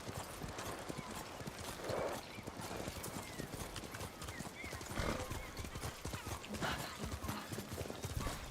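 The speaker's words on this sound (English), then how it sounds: "Good horse, Kage." Hooves clip-clop steadily from a horse ridden in the video game Ghost of Tsushima, with a few whinnies rising over the gallop and a voice talking through it, all close and loud.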